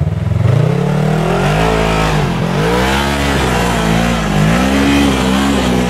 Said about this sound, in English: Drift around that pole, dude.